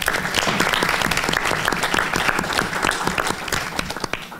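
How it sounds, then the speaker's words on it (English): Dense, loud audience applause at an annual membership meeting, a steady wash of many hands clapping throughout. "The round of applause."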